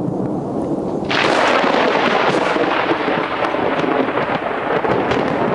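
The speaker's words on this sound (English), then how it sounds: "What you're about to see is a very close lightning strike" Thunder from a very close lightning strike: after a quieter opening second, a sudden loud broadband crack bursts in and rolls on as a sustained rumble, heard alone with no voices.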